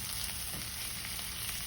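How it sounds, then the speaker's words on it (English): Half an onion and minced garlic sautéing in a pan, a steady faint sizzle and crackle of frying with no talking. "So we're gonna get all this sauteed down. Now what I'm working with is a half of an onion"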